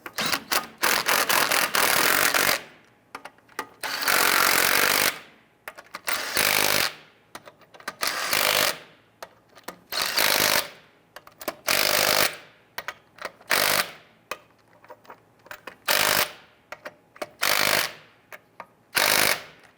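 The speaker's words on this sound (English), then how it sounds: "Once you have those all started, go ahead and snug them down." A power tool, likely an impact wrench, snugs down the front wheel lug nuts on a 1994–2004 Ford Mustang. Loud, close bursts of harsh rattling hammering come one after another, split by short silences, with no talk.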